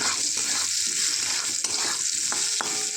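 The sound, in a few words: raw mango frying and being stirred in a pan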